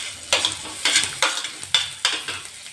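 Capsicum stir-fried with ginger-garlic paste and butter in a pan: five sharp, evenly spaced scraping strokes over a soft sizzle, close and fairly loud.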